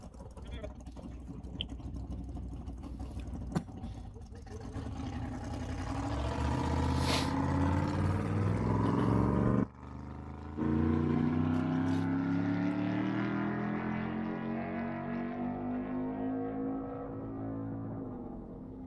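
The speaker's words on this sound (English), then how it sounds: "Next up, we're going to send a Corvette." A Corvette race car makes a speed run on the long course at Bonneville Speed Week, its engine roar building loudly and steadily with rising pitch, briefly cutting out mid-run before resuming and fading into the distance.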